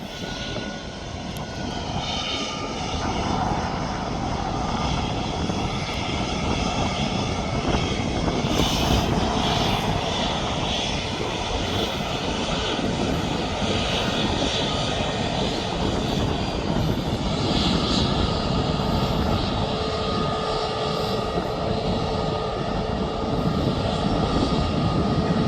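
Jet2 Airbus A320neo-family airliner at Birmingham Airport, a loud, continuous engine roar and rumble lasting throughout, heard from outdoors.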